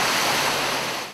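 Dense, loud rush of heavy rain pouring during a storm on a flooded street in Manaus, a continuous hiss that fades at the very end.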